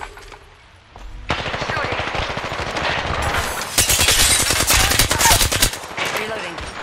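Automatic gunfire in Apex Legends at night on Kings Canyon, dense rapid bursts that start abruptly and build loud and continuous, with brief pauses, mixed with game effects.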